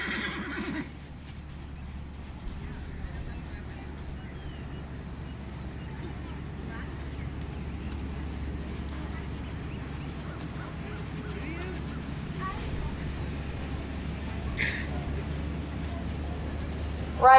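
Horses walk under saddle in a show class, giving faint, soft hoofbeats over a constant low hum, with a brief whinny and background voices.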